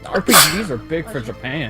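A single sharp, close sneeze bursts out in the middle of casual conversation, with people talking just before and after it.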